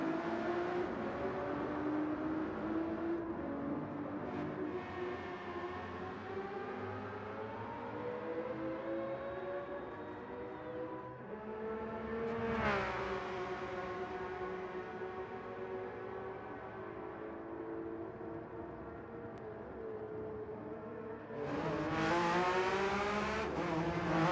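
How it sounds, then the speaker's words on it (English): Many race car engines drone and rev together in a GT sprint sim racing game at Laguna Seca, with a loud, continuous layered roar whose pitch rises and falls, plus a few sharper surges, and no talking. "As you hear all the engines in the background"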